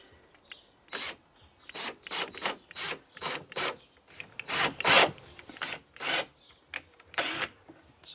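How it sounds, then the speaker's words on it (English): Drilling into the wooden body of an Arcade1Up cabinet, up into the underside of the control panel, gives a run of about a dozen rough, rasping bursts in a steady stop-start rhythm, close and fairly loud, with no talking. "So it's going to drill straight into the cabinet and then into the bottom of the control panel."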